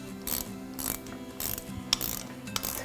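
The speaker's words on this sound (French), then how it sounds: "Donc une petite clé à cliquet, très pratique pour ce genre d'opération." A small ratchet wrench clicks rhythmically while tightening the rim lock on a motocross tire, several bursts of quick close metallic ratcheting in a quiet workshop.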